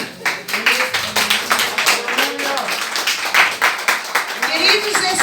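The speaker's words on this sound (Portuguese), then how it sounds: "Se assente aplaudindo o Senhor." A church congregation applauding: rhythmic, moderately loud clapping that runs throughout while a voice sings or speaks over it.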